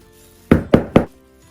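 A bamboo tube packed with sticky rice is knocked three times in quick succession, solid hollow thuds, loud and close with no talk, between quiet moments.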